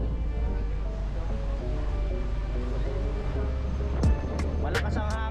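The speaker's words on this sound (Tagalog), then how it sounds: "Malakas ang alon." Strong sea waves wash steadily and loudly near the shore during island hopping, with a constant low motor-like hum underneath and a brief louder surge near the end.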